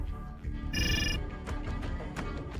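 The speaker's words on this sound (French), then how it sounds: "Soudain, le téléphone sonna." A telephone bell rings in a short bright burst amid a dramatic dark scene, with rain against windows setting a soft wash underneath and faint follow-up chimes.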